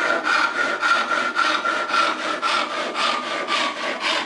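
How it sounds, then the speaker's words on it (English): A cheap tenon saw crosscuts wood in even, rhythmic back-and-forth rasping strokes, about eight or nine of them, close and loud with no voices. "let's try a crosscut"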